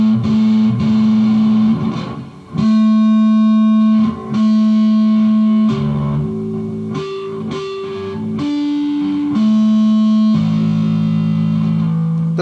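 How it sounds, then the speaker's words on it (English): Bass guitar through distortion playing ringing natural harmonics, bell-like sustained tones struck one after another in a slow sequence with brief gaps, loud and close with no talking. "Those are natural harmonics."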